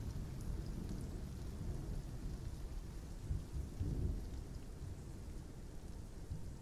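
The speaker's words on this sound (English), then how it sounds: "So this is what it's like when a storm is here." Heavy rain pours steadily in a Path of Titans thunderstorm, and deep rolling thunder swells a little past the midpoint; nobody speaks.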